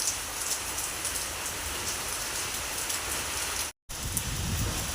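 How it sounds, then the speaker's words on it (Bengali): Heavy, continuous rain pours steadily beside a house on a rainy day, forming a dense, unbroken hiss of drops on surfaces. The sound is loud and even throughout, with one very brief dropout near the end. "জোর কদমে বৃষ্টি চলছে, অবিরাম বৃষ্টি, বৃষ্টির কোনো থামা নেই।"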